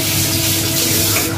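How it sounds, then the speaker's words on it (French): A household dishwasher runs steadily in a kitchen, giving a continuous watery spray and hum that stays at an even, fairly loud level throughout. "pour le bruit de fond, hein. Ça c'est mon lave-vaisselle."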